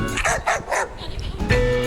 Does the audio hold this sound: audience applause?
no